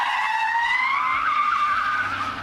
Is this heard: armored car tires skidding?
yes